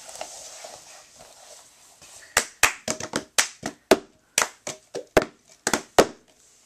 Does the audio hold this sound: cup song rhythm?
yes